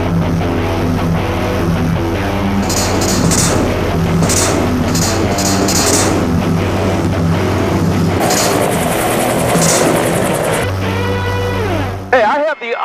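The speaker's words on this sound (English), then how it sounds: "flew the LOACH as a scout pilot in Vietnam, just like this one we're flying right now" LOACH scout helicopter in flight, with a loud constant rotor and engine drone under a steady low hum. Tonal whines and beeps come in brief bursts, and the sound shifts near the end before cutting out.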